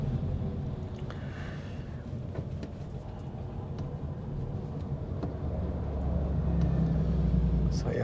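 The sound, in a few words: 2024 GWM Ora electric car driving on freeway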